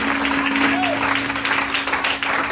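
A church congregation claps steadily and loudly as a dense, continuous wash of applause, with a sustained hum and voices mixed underneath.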